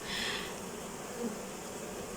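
A dense, continuous buzz of many bees, steady and close, filling the whole moment without pauses.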